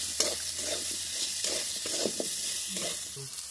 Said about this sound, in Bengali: হলুদ, চিনি আর আদা দিয়ে এবার এগুলো আমি ভালো করে একটু কষে নেব।